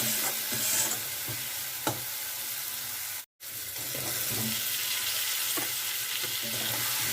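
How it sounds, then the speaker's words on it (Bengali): Fried potatoes are tossed into a sizzling spice masala in a pan, with a steady loud hiss of frying and scraping stirs throughout, broken by one brief silent gap midway. "এবার ভেজে রাখা আলুগুলো দিয়ে দেবো"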